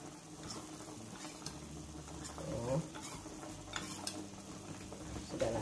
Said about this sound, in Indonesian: Kita aduk hingga dia larut ya.